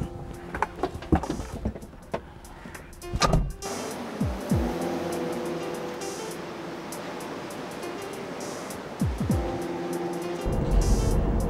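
A sports car with a VVC engine is driven, its engine note building steadily and loud with brief shifts and surges, plus mechanical clunks early on.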